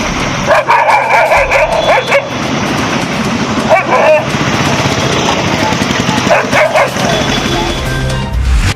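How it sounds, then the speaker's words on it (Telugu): Packs of stray dogs bark in the streets of Peddapalli town, a loud, continuous jumble of yips and bow-wows with repeated sharp bursts. A steady low rumble runs underneath. "పెద్దపల్లి పట్టణంలో ఏ వీధిలో చూసినా కుక్కల గుంపులే"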